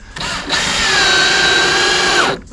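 A power drill drives sheet-metal screws, a loud close whine that starts abruptly, rises in pitch as it spins up, holds steady for about two seconds and then stops.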